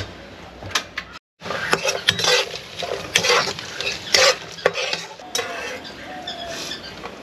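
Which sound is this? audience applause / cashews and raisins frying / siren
cashews and raisins frying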